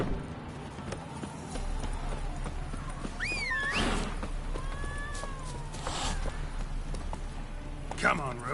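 Roach, the horse in The Witcher 3: Wild Hunt, moves with a steady clip-clop of hooves, fairly close, while a person talks over it and sharp whistling or whinny-like tones rise above it at a few points.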